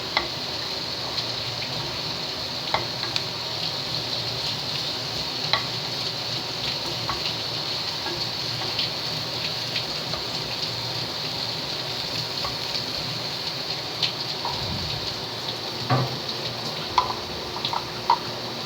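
Ginger sizzles steadily in a hot pan for beef kaldereta, a continuous frying hiss with scattered crackles and pops, stirred at times, with no voices over it.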